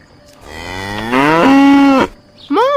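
A cow gives a loud, drawn-out moo that holds steady for over a second before cutting off, then a second moo begins right after a short pause, close to the listener and with no talking.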